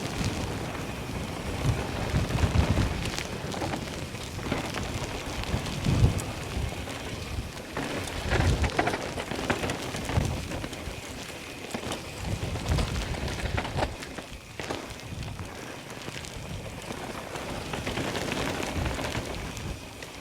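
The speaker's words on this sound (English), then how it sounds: "it's really raining now." Heavy rain pours down steadily on a mountain bike trail for the whole stretch, a dense, even roar with occasional heavier gusts and no one speaking.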